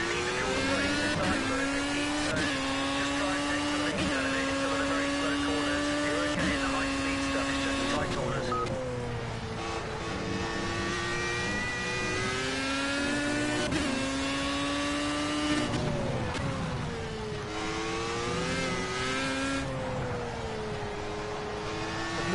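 Race cars in Project CARS, a Le Mans-style circuit race, drone steadily with engine tones rising and falling through gear changes, loud and continuous throughout, while someone talks over them.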